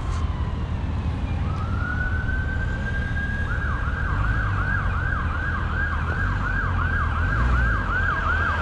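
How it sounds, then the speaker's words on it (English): An ambulance siren starts with a rising wail, then switches to a rapid, repeating yelp, loud over steady road traffic noise. "What about the ambulance, mate?"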